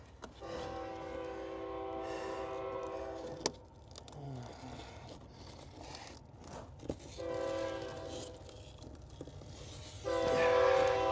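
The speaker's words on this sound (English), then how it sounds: "now that the train has gone by, I went ahead and started the video back up" A train passes near an outdoor truck bed liner install, its horn sounding loud in long blasts broken by gaps, with rumbling wheels and rail noise under and between them.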